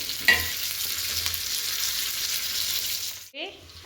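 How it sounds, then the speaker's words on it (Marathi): Chopped onion fries and sizzles in a hot pan, making a steady crackling hiss with a few stirring scrapes, then a brief drop near the end followed by a short clatter. "आणि कांदा टाकला मी परतायला"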